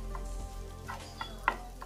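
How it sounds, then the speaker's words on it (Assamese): Boiled raw banana peel fries in oil in a pan, a soft steady sizzle with a few brief spatters and stirring scrapes, close and faint, with no voices. "তেলটো পূৰা ছিটিকি যোৱালৈ মই ভাজিম"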